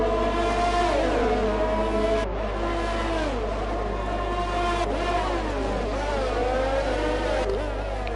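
Racing car engines in a Monaco Grand Prix racing video game rev and shift, loud whining tones rising and dropping through gear changes over a constant low hum.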